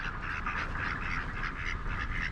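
Ducks quack in a continuous, steady chatter at a nature park in Syracuse, Utah, the calls overlapping close by with no pauses and no talk over them.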